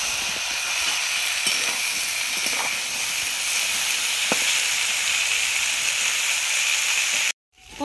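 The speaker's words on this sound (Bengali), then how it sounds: "ফুলকপি আর আলুটা আমার লাল লাল করে ভাজা হয়ে গেছে" Cauliflower florets and potato pieces fry in hot oil with a steady, loud sizzle and hiss that continues unbroken for several seconds before cutting off abruptly.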